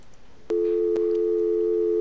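Telephone tone in the Gabriel Knight adventure game: a steady, loud dual-pitched tone starts abruptly after half a second of quiet, with a brief click, and holds evenly to the end with no talking.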